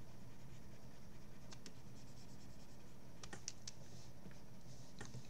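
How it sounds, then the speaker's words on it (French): Pencil guide lines being rubbed out with an eraser on drawing paper, a close, steady scratchy rubbing broken by a few quick sharp scrapes, with no talking. "J'ai plus qu'à gommer mes petits guides."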